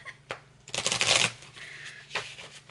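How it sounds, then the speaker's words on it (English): A deck of playing cards is shuffled up close: a quick riffle with a burst of rapid flicking and a short follow-up rustle, all within a few seconds. "I'm going to shuffle one more time."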